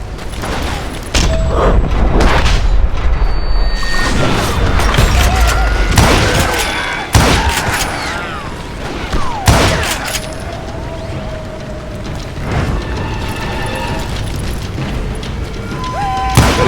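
Gunfire shootout in the Western game Call of Juarez: Gunslinger, with loud, dense bursts of shots and booming impacts over the first half, then sparser scattered shots and ricochets against a busy background.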